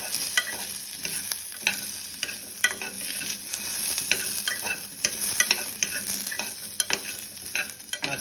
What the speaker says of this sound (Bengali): তারপরে পামকিন দিয়ে দিয়েছি, এখন একটু নেড়ে নেব।